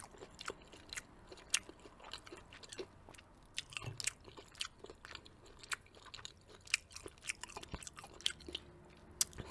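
Popeyes chicken strips being eaten up close, with steady crunchy bites and wet chewing that repeat in an irregular rhythm for nearly ten seconds, quiet and intimate with no talking.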